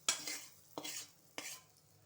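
Three short spoon-and-pan stirring strokes, each with a brief faint sizzle, as dried red chili and asafoetida fry in a little oil; quiet and close, no talking.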